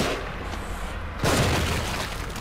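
Gunfire in the horror video game The Evil Within, loud booming shots with a heavy blast a little past the middle, over a dense, noisy game soundscape.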